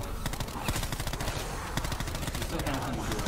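A burst gun fires in Black Ops 4 Zombies, rapid repeated shots crackling in dense bursts across the whole stretch, loud and continuous, with speech faintly mixed underneath.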